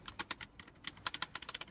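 Quick, light key taps clatter in an uneven rhythm, crisp and close, typing on a thin 2.4 gigahertz wireless keyboard with no voices.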